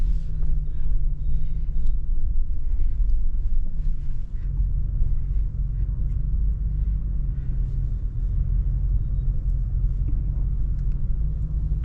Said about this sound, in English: Traffic again.